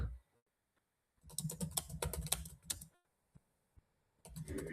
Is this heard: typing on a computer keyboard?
yes